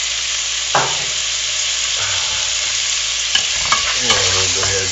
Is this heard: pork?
yes